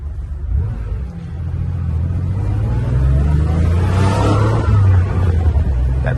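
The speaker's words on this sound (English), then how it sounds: "That beautiful flat six engine, 200 plus horsepower." Car with a flat-six engine of 200-plus horsepower accelerating on a track, a loud, deep close rumble with rising engine tones as it gathers speed.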